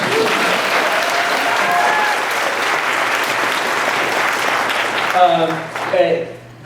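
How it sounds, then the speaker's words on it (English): A crowd applauds loudly and steadily for several seconds, then the clapping fades as a voice starts speaking near the end. "Yeah, applause for James."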